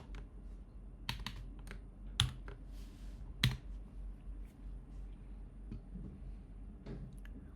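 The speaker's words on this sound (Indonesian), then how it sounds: "Sekarang kita diminta untuk mengetikkan komen ini." Quiet, close typing on a computer keyboard, with irregular soft key clicks and a few sharper taps spread over several seconds with no talk.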